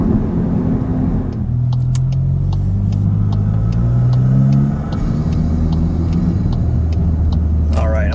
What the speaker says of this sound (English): Right there between 3 and 4 is where you can hear it too. Turbo spool up. Rich in sound.